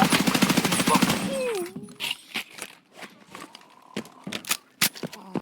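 Rapid automatic gunfire from Escape From Tarkov bursts in a fast rattling stream at the start, then breaks into scattered single shots and short volleys.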